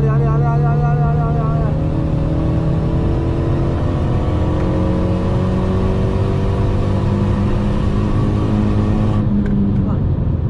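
A Renault Megane 3 RS engine accelerates hard on the Clastres race circuit, heard from inside the car. The loud rising drone climbs steadily through the gears and then cuts off near the end.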